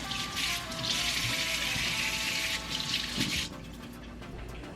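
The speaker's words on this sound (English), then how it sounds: "I'm gonna give everything a nice wash." Tap water runs loudly into a sink while items are washed, a steady close splashing stream that cuts off near the end and leaves a faint dribble, with no voices.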